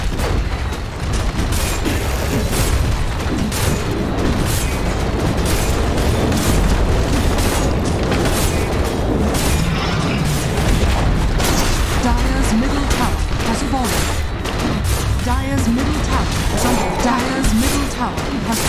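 A tower comes under attack in a Dota 2 match, with continuous heavy booms, blasts and rapid impacts layered densely, loud throughout, and voices mixed in.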